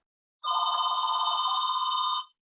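A telephone rings steadily for almost two seconds during an online class, a loud continuous electronic trill that stops abruptly, with no voices over it.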